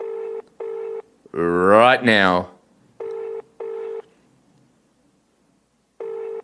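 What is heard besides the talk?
telephone call dialing and ringing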